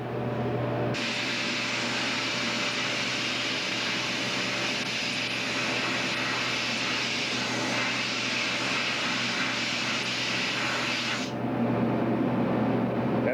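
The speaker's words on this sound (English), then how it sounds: "show us his sandblaster here for blasting the heads, cleaning them up" A sandblaster cleans engine cylinder heads in a workshop, a loud, steady rushing hiss that runs for about ten seconds and then stops.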